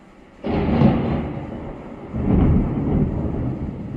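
Thunder rolls in two deep, rumbling swells, the first breaking in suddenly and the second rising a moment later, loud and resonant from outdoors with no speech.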